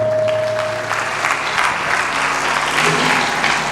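Congregation at a Punjabi sermon led by Sant Sunder Lal Ji clapping hard on cue, a loud, dense, sustained burst of many hands filling the hall, with a brief tonal hum at the start.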